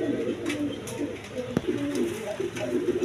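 A pair of large red checker pigeons cooing softly and repeatedly up close, over faint background chatter and a steady room hum.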